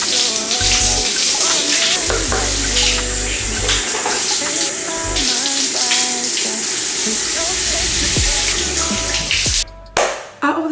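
A shower runs steadily with a loud, broadband hiss of falling water, punctuated by a few clatters and knocks, then cuts off abruptly near the end.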